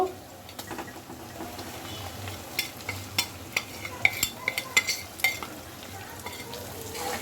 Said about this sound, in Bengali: দিয়ে আমি এখন মশলাটাকে ভালোভাবে কষাবো